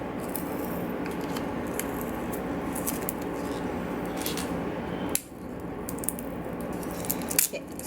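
Washi tape rolls from a Print Pressions and Scribble Prints Co box are unwrapped: continuous close crinkling and rustling of plastic packaging with scattered sharp crackles, a brief pause, then more tearing rustles.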